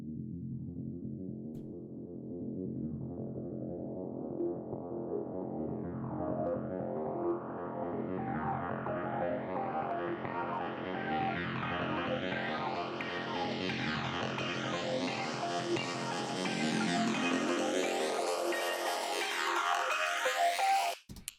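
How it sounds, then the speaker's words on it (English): Two layered synth loops from a track play together as a dense, continuous swirling texture with rising sweeping tones, fairly quiet and steady throughout, with no voices. "the track started with these two sort of synth and RP loops. So I'll just play those for you."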